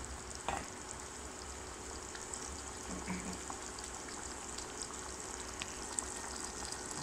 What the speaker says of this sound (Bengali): এখন এটা ভালো করে কষাবো এবং টমেটোগুলো সিদ্ধ হয়ে যাবে